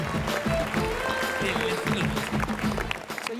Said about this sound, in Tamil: உங்கள் டீமுக்கு எங்கள் டீம் சார்பாக இந்த பெரிய கைத்தட்டல்கள்.